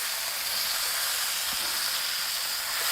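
Steady, loud hiss of a steak searing in a hot pan, a continuous broadband sizzle with no pauses, heard on its own without voices.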